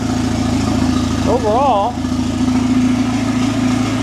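A 2.0L Ecotec car engine idles steadily after a fuel pump replacement, a loud close hum with a constant low drone, while someone talks briefly over it.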